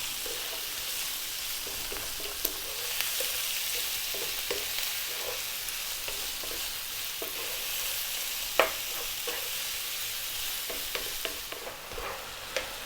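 Beef and kidney pieces frying in a pan for steak and kidney pie filling, a continuous moderate sizzle with occasional clicks and scrapes of stirring.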